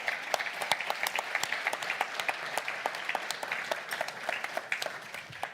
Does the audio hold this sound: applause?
yes